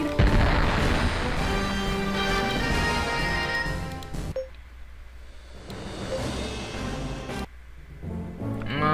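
A barrage fires in the Nintendo DS video game Infinite Space as a series of heavy blasts and crashes over loud game music, with booming hits that swell and drop away between volleys.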